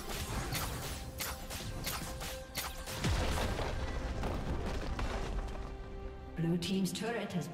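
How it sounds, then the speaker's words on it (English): A League of Legends turret is destroyed with a heavy crashing boom, then debris rumble and whooshing effects follow amid dense, loud game sounds. "Blue team's turret has been destroyed"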